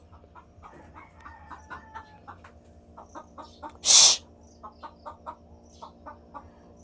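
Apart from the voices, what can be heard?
chicken clucking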